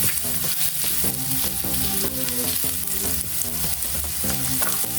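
Garlic and ginger sizzle and fry steadily in a hot pan for shrimp and cauliflower, a continuous crackling hiss with occasional stirring scrapes, close and loud, with no talking.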